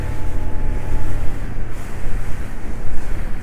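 A sailboat runs along at sea at three to four knots, giving a steady rush of water and wind against the hull and rigging, with no voices.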